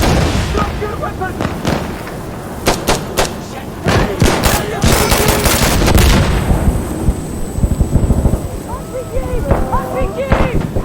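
Gunfire and explosions from the combat video game Insurgency Sandstorm, with repeated sharp shots and heavy booms in rapid bursts, close and loud, mixed with shouting voices and a steady high whine near the end.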